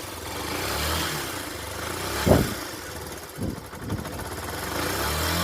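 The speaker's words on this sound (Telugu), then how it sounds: "బండి అయితే స్టార్ట్ అయింది కదా, ఒకసారి అయితే ఇంజన్ సౌండ్ అయితే వినండి ఫ్రెండ్స్" A Yamaha SZ-R motorcycle engine idles steadily with a low mechanical rumble, a couple of brief revs or knocks breaking the even drone.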